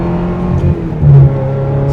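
A 1999 Ferrari 355 Berlinetta F1 engine hums close up with a steady tone, then gives a short, brief rise in revs as the gearbox shifts in manual mode.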